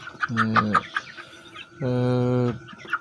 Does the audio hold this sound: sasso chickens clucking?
yes